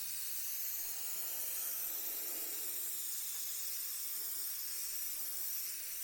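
Airbrush with its crown cap fitted spraying paint at about 20 psi, a steady, even airy hiss running unbroken throughout, close and moderately loud.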